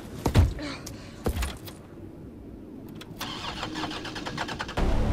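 An old 1980s car cranks and turns over in the Resident Evil 3 remake, with sharp starter bursts, a pause, then the engine catching into a rough running rumble, heard fairly close.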